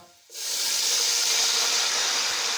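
Sugar syrup hits hot cooked rice in a pot and erupts into a loud, steady steam hiss that starts abruptly and holds strong without pause, with no talking over it.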